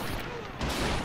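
Gunfire in the Men of War video game, a dense, continuous burst of shots like a machine gun, loud and unbroken for about a second.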